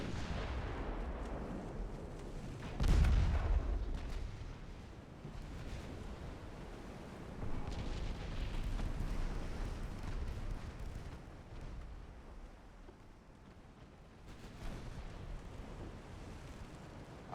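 Naval guns fire in the Ultimate Admiral Dreadnoughts game. Deep booming salvos sit over a steady bed of ocean and wind noise, with a strong blast near the start, a second one later, and a third near the end.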